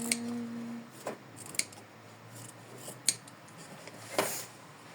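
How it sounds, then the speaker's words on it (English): Scissors trim embroidery thread at the back of a hoop, with several quiet, sharp snips spaced about a second apart against a hushed room background. "So I'm trimming it from the back of the hoop, and I'm almost done."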